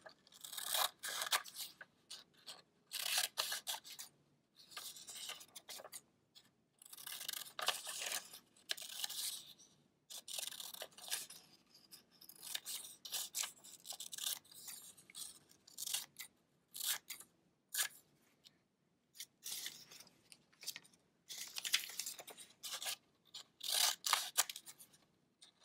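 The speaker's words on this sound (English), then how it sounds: "I just make a cut and I let it fall off to get different shapes" Scissors snip through paper for a 3D collage in a run of sharp, close cutting bursts separated by brief pauses, with occasional rustling of the paper and no one speaking.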